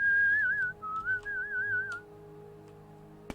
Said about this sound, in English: apparently Nords can whistle.